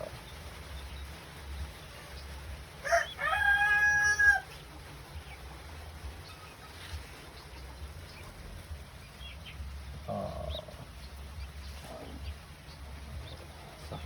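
Newly hatched Bingala native chicken chicks from a native incubator give a short burst of high, clear peeping near the start. Faint scattered cheeps follow over a low background hum.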